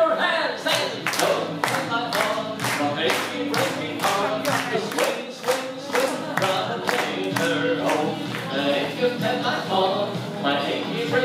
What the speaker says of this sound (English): Clap your hands and go